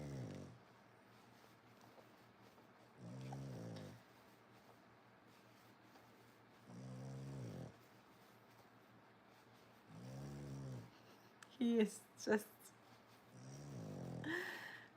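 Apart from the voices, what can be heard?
dog snoring while asleep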